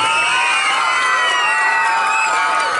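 A large crowd at an honouring ceremony in Darbhanga, Bihar, welcomes a guest with loud, continuous cheering, whoops and shouting voices layered over a dense wash of applause.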